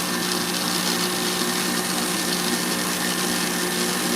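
An electric mixer whisk beats meringue for macarons with a steady, loud, unbroken mechanical whir and buzz throughout.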